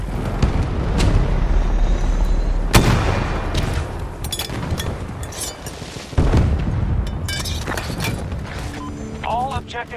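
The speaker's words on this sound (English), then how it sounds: "Grenade out!" Battlefield 2042 combat: a grenade blast booms out over steady heavy gunfire and rumbling battle noise, with sharp impacts and a radio-style voice chattering near the end.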